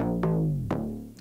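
Synth notes in an electronic dance track bend downward in pitch between other notes, two clear downward glides heard alone with no voice.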